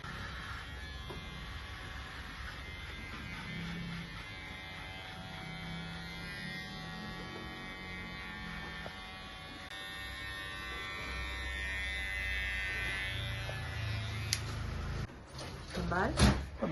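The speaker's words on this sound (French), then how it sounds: "c'est du rasé au rasoir électrique" An electric razor buzzes steadily during a shave, a close, continuous whirring drone with clatter and handling noises toward the end, and speech around it.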